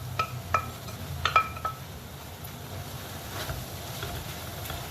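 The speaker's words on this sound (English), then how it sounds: "Give it a quick stir" Fried beef with spring onion being stirred in a pan, with a few clinks of a utensil against the pan early on over a steady low background noise, no talking.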